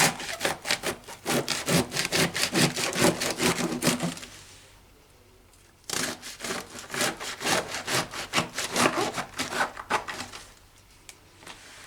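Knife sawing through cabbage leaves on a cutting board, a fast rhythmic series of crisp scraping strokes in two bursts, close and fairly loud, with a short pause between.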